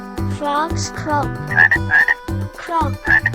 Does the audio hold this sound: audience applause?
no